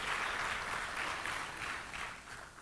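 Audience applause at a corporate social responsibility awards event, a sustained wash of many hands clapping, fairly distant and even, gently tapering toward the end.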